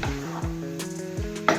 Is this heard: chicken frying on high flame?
yes